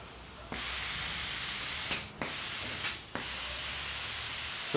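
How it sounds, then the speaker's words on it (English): A steady pneumatic hiss from an A-100 automatic paint spray gun runs almost continuously, broken by two brief pauses where the airflow cuts out and restarts. "So we'll see how spray gun is working currently."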